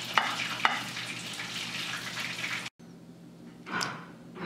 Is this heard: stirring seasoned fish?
yes